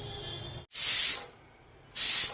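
Pressure cooker whistling out steam while boiling chickpeas for Punjabi chole: two loud, sharp hissing bursts, the first about half a second long and the second shorter, after a quiet hum.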